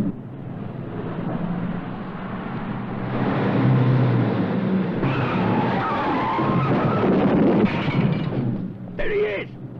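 Car tyres screech and skid loudly during a brake test in a 1970s film scene, a long sustained squeal building and holding for several seconds, followed by a shorter second skid, with voices heard briefly.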